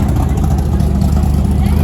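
A race car engine runs with its exhaust missing, giving a loud, constant, rough low rumble close by.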